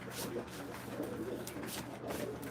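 Pigeons coo in a rural Punjab pigeon loft, a steady murmur of soft, low calls repeating over a constant busy background hiss.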